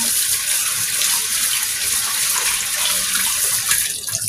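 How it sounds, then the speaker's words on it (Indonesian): Tap water runs steadily and loudly into a sink while salted eggplant is rinsed beneath it, a continuous close splashing with no talking. "terung kita tadi sebelum kita masukkan, cuci dulu"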